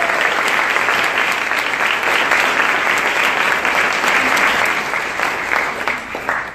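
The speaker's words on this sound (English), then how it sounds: "Please, let's give them a round of applause." A large audience at a livestreamed conference event gives loud, sustained applause, a thick continuous roar of clapping that fades slightly at the close.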